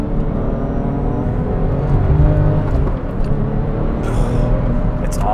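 A stock Porsche 911 Turbo of the 996 generation slows under braking and then accelerates hard, its engine droning loudly from inside the cabin with a steady rumble that swells and dips.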